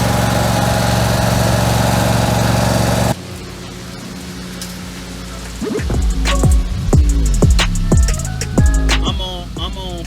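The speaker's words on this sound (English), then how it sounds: "That lawnmower was left running the entire time I was gone to get the air pump." A lawnmower engine drones loudly and steadily for a few seconds, then cuts out, followed by a run of sharp rising and falling whistles.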